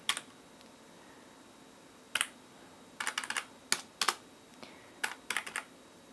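A USB keyboard hooked up to a PlayStation 2 clacks in short irregular bursts of keystrokes, crisp and close, separated by quiet pauses.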